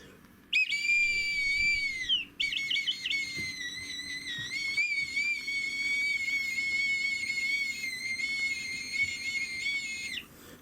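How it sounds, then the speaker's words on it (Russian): A shrill, sustained whistle sounds almost continuously, wavering slightly in pitch with a brief break near the start, played to cats indoors. "Это свисток."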